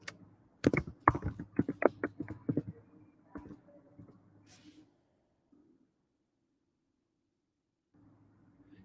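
Quick bursts of clicking keystrokes on a computer keyboard while writing a chat message, close and fairly soft, clustered over a couple of seconds and then trailing off into near silence with faint room noise.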